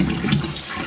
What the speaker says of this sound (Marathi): आपण याला चांगलं 2-3 पाण्याने स्वच्छ धुवून घेणार आहोत।